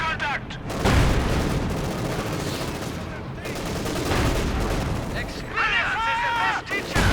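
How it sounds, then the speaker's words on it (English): A Panzer IV tank's cannon fires during a Company of Heroes 2 battle, with loud repeated booms and gunfire layered over dense, continuous combat noise and faint voice-like chatter. "Panzer IV continues to fire away merrily."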